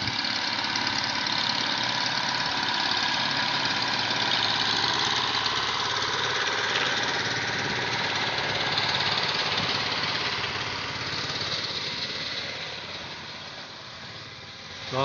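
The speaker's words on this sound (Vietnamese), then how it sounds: "Đang chạy xuồng máy ra." A small motorboat engine runs steadily on a flooded river in a flooded plain in An Giang, Vietnam, giving a continuous mid-pitched drone with a knocking edge throughout, loud and close with no talk.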